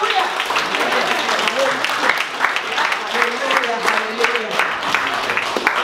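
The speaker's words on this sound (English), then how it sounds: "give God a hearty welcome by clapping our hands" A standing congregation claps hands in welcome during a church service at a graduation party, a dense, continuous patter of many hands with scattered shouts and voices mixed in.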